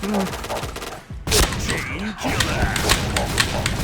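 Rapid bursts of gunfire from a team shooter video game, loud and close, with sharp shots clustering in quick volleys and a thud-like boom, while a voice talks over the action.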